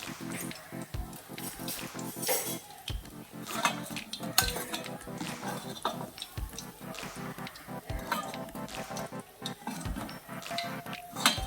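Metal utensils clink and scrape against a pan as fried chicken kola urundai are lifted out of hot oil and drained, a soft sizzle underneath, with a voice talking over the clatter.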